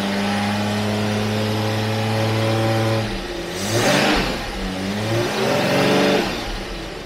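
A Jaguar V12 engine fitted with four carburetors idles with a steady harmonic hum, then revs up sharply twice and settles back, loud and close with no voices.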